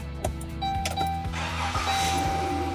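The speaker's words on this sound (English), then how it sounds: "It asks you to please start the engine." Car engine cranking and starting during a battery cranking test with a handheld battery tester, heard as a series of quick rhythmic starter pulses followed by the engine catching into a steady idle, fairly close.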